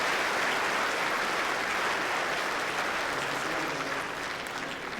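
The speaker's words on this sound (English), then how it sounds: "appreciative crowd here" Crowd applauding at the 2016 World Bowls Championship after a fine bowl, with steady, even clapping from an indoor audience that holds for the full stretch and fades slightly at the end.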